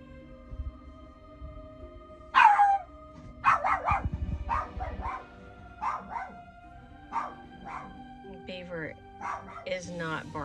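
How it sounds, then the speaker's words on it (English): A dog barking at something outside, a series of sharp close barks and yips spread irregularly across the clip, with a whimpering tone near the end. "he's barking because he heard something outside."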